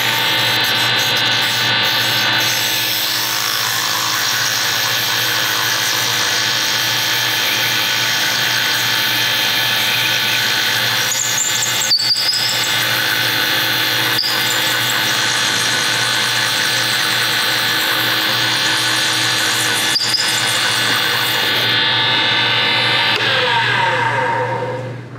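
Power sander running on sandpaper, a loud, steady whirring drone with a constant hum that holds for about 25 seconds, with a few brief sharper scraping bursts, then cuts off at the end.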